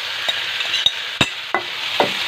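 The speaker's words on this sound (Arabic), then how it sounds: "المقله ديالنا راه سخنات، دابا غادي نخوي عليها داك الخليط كامل" A mixture poured into a hot frying pan sizzles with a steady hiss, broken by several sharp utensil knocks and clinks at irregular intervals, close and fairly loud, with no voices.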